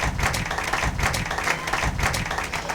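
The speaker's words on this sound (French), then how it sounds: "Acclamez pour la gloire de notre Dieu et de notre Seigneur." Congregation clapping during a church sermon, a steady rhythmic applause filling the room, close and fairly loud with no voices on top.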